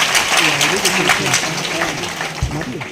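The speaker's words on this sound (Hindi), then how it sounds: "एक बार जोरदार तालियों से उनका स्वागत करें" A hall audience at a community award ceremony bursts into loud applause for a welcomed guest, a dense continuous clapping throughout with a voice faintly heard beneath.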